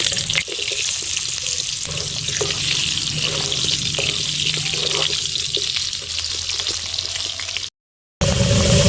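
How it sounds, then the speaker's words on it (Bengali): Cut potatoes fry in hot oil in a kadai already used for frying fish, a steady close hiss with faint crackle running almost unbroken, then dropping out briefly near the end. "এবারে এই মাছ ভাজার কড়াইতেই আমি কেটে রাখা আলুগুলো প্রথমে ভেজে নেব।"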